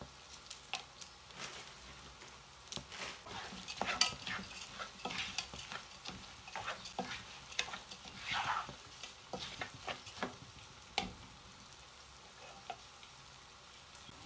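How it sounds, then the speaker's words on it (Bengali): Rice fries in a pan and is stirred repeatedly, making a busy run of close spatula scrapes and light clinks over a soft, continuous sizzle. "দুই 3 মিনিট আমি চাউলটা ভাজি লিছি।"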